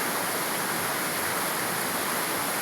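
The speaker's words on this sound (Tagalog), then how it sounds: "Ang laki ng ilog mga idol oh." A large flooded river swollen by heavy rain in Masbate rushes in a loud, constant roar of broadband water noise, close and unbroken.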